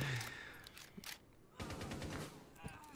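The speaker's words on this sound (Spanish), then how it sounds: "le están disparando por su izquierda" Bursts of gunfire in Rainbow Six Siege, played with suppressed weapons, come as a few rapid clusters of shots at moderate distance with quiet gaps between them.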